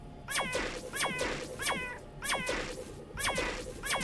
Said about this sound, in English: Oh, stop, you cats.